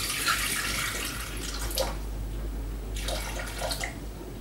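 Water poured into the mixing bowl of a Thermomix TM31 while making ciabatta rolls, a steady trickling splash heard close up in two bursts with a short pause between, no talking.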